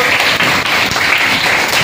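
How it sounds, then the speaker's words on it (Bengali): A classroom bursts into loud, dense applause for a student who answered a question in a lesson on digestion, the clapping continuous and close throughout. "হাততালি দাও ওর জন্য"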